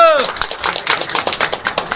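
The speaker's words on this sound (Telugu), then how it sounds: "చప్పట్లు" Applause at a union meeting of Singareni workers, with a brief burst of many hands clapping together close by after a voice ends, and the clapping continuing steadily to the end.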